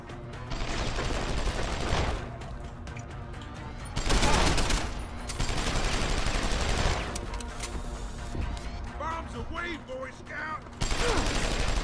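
Enemy gunfire in the Deus Ex video game: bursts of rapid shots and booms in several loud clusters separated by brief lulls, with someone talking over parts of it.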